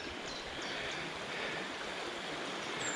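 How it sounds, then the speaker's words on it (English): The River Dove flows steadily as a soft, even rush of water heard from a little distance on a country walk, with no voices. "I'm going for a stab in the dark here and say this is the River Dove."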